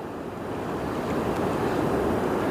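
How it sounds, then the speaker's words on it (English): Waves wash steadily over a sandbank at the St Lucia Estuary mouth as the tide comes in, a continuous broad surf roar with wind buffeting the microphone. "those waves washing over the sandbank, pushing the sand into this side."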